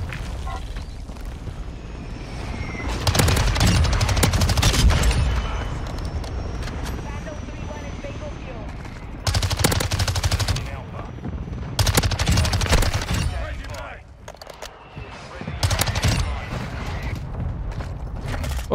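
An MX9 submachine gun fires in the video game Modern Warfare 2, with several loud bursts of rapid automatic fire separated by short pauses and a voice talking over the action.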